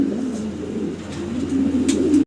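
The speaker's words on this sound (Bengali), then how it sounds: "টগি কবুতর দেখতেছেন আপনারা, ইয়াং বয়সের" Young Iranian Toggy fancy pigeons coo close by in a low, steady, rolling murmur that keeps going throughout, with a few faint higher noises over it and no talk.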